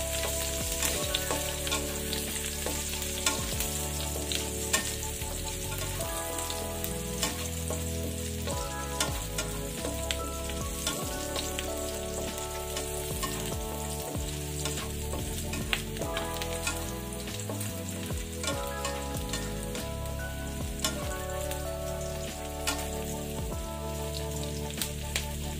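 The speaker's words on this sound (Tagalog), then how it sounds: "Ginigisa ko muna yung bago ko ilalagay yung yung chicken" Aromatics sautéing in a hot pan ahead of the chicken, a continuous busy sizzle with repeated scraping and stirring clatter over a long stretch, no talking.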